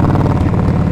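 A motorcycle engine running close and loud, a continuous low throbbing rumble over a brief stretch.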